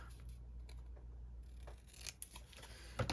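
Scissors snip off paper tabs from a handmade journal, a few short quiet cuts and rustles close by over a steady low hum.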